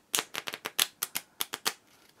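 Playing cards riffle-shuffled in the hands, a run of about ten quick crisp riffling bursts in an uneven rhythm, close and alone, ending in a faint settling rustle.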